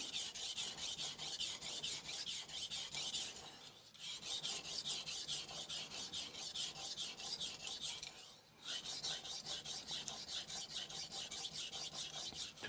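A knife blade rasps steadily across a King resin-bonded diamond whetstone in long, rhythmic gritty strokes, close and fairly loud, with two brief pauses between passes.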